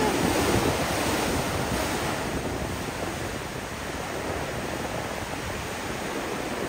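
Strong ocean waves crash and roar continuously beside a sea cave on a rocky island cliff, a loud, dense surge mixed with heavy wind buffeting the microphone.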